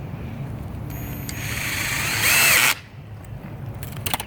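A power drill drives screws into the brackets of a garden gate: a steady motor whine that builds, peaks loud for a moment, then cuts off, leaving a low rumbling background.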